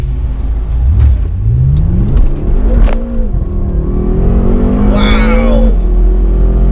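BMW F10 M5 launching hard with traction control off, the engine climbing loudly through the revs, a shift, then pulling again, close inside the cabin, with a voice exclaiming over it.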